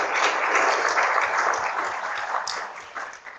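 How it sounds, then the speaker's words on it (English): Audience at a public meeting on lung cancer drug development applauding panelists, a dense sustained patter of many hands clapping that gradually thins and fades toward the end. "we should applaud these panelists too for their courage in coming with me"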